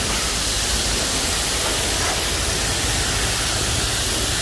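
Steady, dense hiss of water spraying down a BMW E92 M3 during a quick rinse, loud and continuous throughout with no voices.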